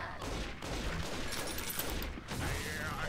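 Bursts of gunfire from the video game Bioshock 2 crackle through dense, busy in-game noise, with brief pauses between volleys.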